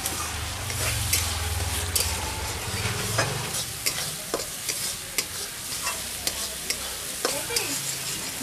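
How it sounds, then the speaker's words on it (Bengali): A spice paste fries in hot oil for a Bengali dish, giving a steady close sizzle with repeated sharp scraping and tapping strokes of a spatula stirring it around the pan. "মশলাটা ভালো করে কষিয়ে নিচ্ছি বন্ধুরা"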